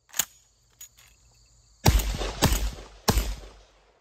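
An Aksa S4 shotgun fires Turknelli subsonic ammo outdoors: a single sharp shot, then after a pause three loud booming reports in irregular succession, each trailing off, with faint insect chirps in the background.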